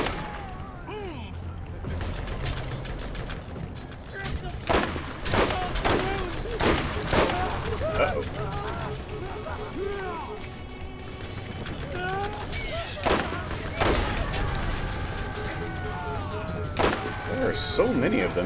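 Enemy gunfire in the video game Borderlands, a dense stream of sharp shots and thuds from many attackers, steady and moderately loud throughout, mixed with game effects and a talking voice.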